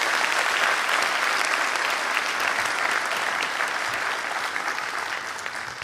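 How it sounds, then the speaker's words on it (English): Audience applause fills a town hall meeting, a dense, steady wash of many hands clapping that holds loud for the whole stretch and eases slightly toward the end. "A round of applause, ladies and gentlemen."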